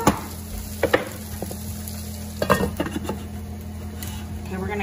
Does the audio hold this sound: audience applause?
no